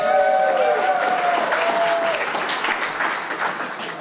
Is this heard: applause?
yes